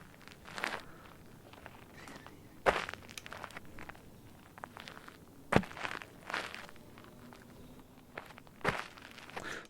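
Raw foley footsteps recorded on different surfaces, a handful of separate, fairly faint steps and scuffs spaced irregularly, with gritty crunchy textures and quiet gaps between them.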